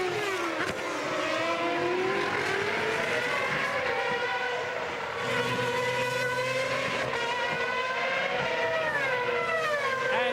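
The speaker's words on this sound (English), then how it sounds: "Behind Alonso, the white car is the BMW of Nick Heidfeld" Formula 1 cars of the 2006 season race at Albert Park, their high engine whine loud and continuous, rising and falling through gear changes as cars pass close by.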